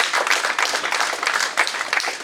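Audience applause at a football club fans forum: a steady, dense patter of many hands clapping throughout, fairly close and moderately loud, with no voices over it.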